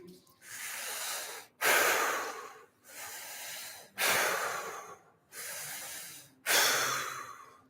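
Slow, deliberate breaths drawn in through the nose and pushed out through the mouth alternate in an even rhythm, six long airy strokes close up with brief pauses between, no talking.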